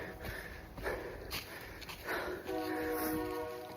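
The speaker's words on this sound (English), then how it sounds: "And there's a fucking train." A train rumbles past at a distance with a drawn-out, horn-like tone toward the end, over steady outdoor background noise.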